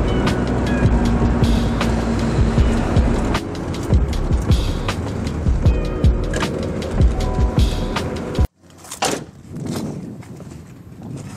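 Convertible car driven with the top down: steady loud wind and road roar with engine rumble and passing rattles, then a sudden drop to quieter, gustier road noise near the end.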